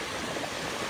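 Steady rushing of flowing stream water at a fishing spot, a continuous broadband wash with no breaks over one second.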